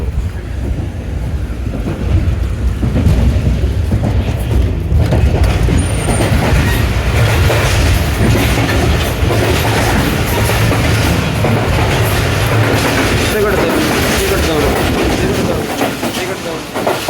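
A train carriage on the Karachi to Bahawalpur route rattles along the rails, heard from inside with a loud, continuous rumble and clatter that stays steady throughout.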